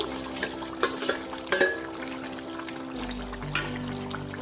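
Fried onions and capsicum are added to cooked kadai chicken in a pan, giving a few clinks of utensil against metal and soft stirring scrapes over a low, steady background hum.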